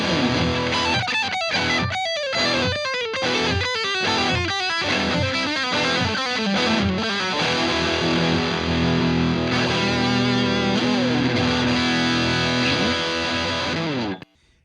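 A gritty, distorted electric guitar plays a fast, choppy riff with sharp palm-muted attacks, loud and steady, then cuts off abruptly at the end.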